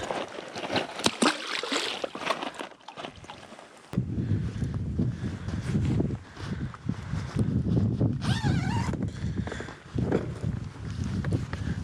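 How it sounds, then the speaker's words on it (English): Strong winter wind by the Columbia River, a loud rushing roar with gusty buffeting against the microphone, steady and close throughout with surges and dips. "now the wind is picked back up again, and it's pretty gnarly"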